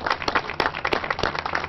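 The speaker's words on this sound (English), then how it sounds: "Let's give them a big round of applause." A crowd applauds first responders and military personnel at a September 11th memorial in Springfield, with a burst of scattered, fairly close clapping.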